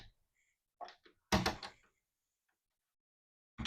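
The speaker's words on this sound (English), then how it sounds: "So here we have a little double Dutch door" A small double Dutch door in a house listing near the Big Bear ski slopes opens with a couple of light wooden knocks and then a firmer thunk and rattle, heard close in a quiet room.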